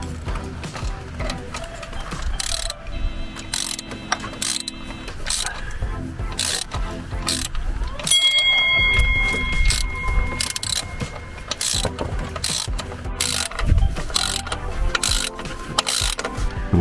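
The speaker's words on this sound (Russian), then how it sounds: "Ставим обратно ролик-натяжитель." Clicking, ratcheting mechanical work while reinstalling a car engine's tensioner pulley, with metallic clanks and a tool's repeated ratchet, steady and close throughout.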